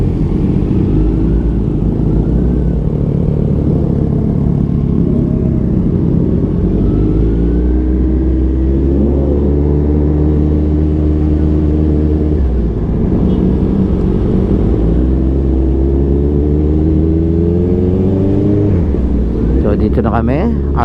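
Engines of Kawasaki Z1000R motorcycles on a group thanksgiving ride, a loud continuous throaty rumble close by, rising and falling in pitch through repeated revs and shifts, with no clear talk over it.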